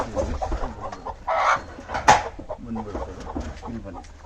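Country chickens (nati koli) on a poultry farm cluck in short, close bursts, with people talking over the birds throughout.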